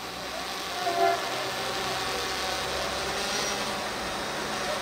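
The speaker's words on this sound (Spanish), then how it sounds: "ahí sentimos la bocina, sentimos la bocina" Horn of the Tren de las Sierras in Córdoba, Argentina, sounding as the train departs: a steady, sustained blast running through the whole stretch over a broad rail rumble, with no talk.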